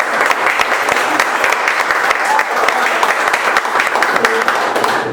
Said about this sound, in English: The applause at the start's always easy and cheap.